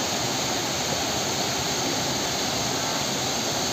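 Corbett waterfall in dense forest, a dense, even rush of falling water filling the whole span, close and loud with no break or voices.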